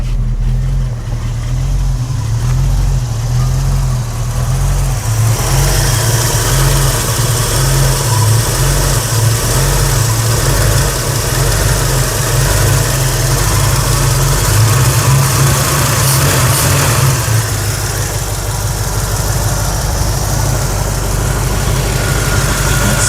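The V8 in a 1989 Chevrolet S10 pickup idles roughly, loud and close. Its engine speed rises and falls in uneven surges, lifting noticeably partway through, with no talking over it.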